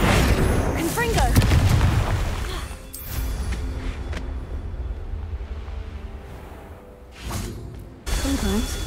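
Confringo, a blasting curse in Hogwarts Legacy, goes off as heavy booms and whooshing bursts, with a loud roar early and later blasts. Voices shout over the action in places.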